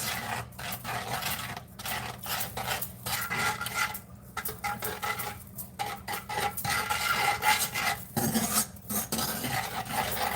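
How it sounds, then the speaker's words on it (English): A whisk beating a brown sugar mixture in a bowl, a fast steady scraping and clattering of wire against the bowl with short pauses, close and loud, no talking over it. "We're just going to whisk it together and see what we get."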